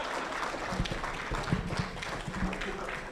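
Audience at a panel discussion on cloud strategy clapping for the panelists, fairly faint and scattered applause with some low knocks and shuffling.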